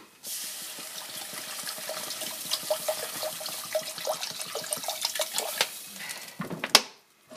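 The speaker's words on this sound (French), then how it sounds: "mettez du lait, mettez de l'eau dedans. Voilà, donc on va mettre de l'eau." Water poured into a pan of flour and butter sauce for a béchamel-style crêpe filling, a steady close splashing trickle that ends with a brief clatter, with no talking.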